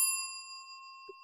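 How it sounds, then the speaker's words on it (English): A single bright notification bell ding rings out cleanly and decays with a long shimmering tail, isolated and fairly quiet against silence. "hit that notification bell"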